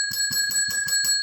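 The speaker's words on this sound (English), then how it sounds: "Exploring PTSD and addictions using a bell. No, using a ring for service bell." A ring-for-service desk bell struck five times in a steady rhythm, each bright metallic ding sustaining into the next, loud and close with no talking.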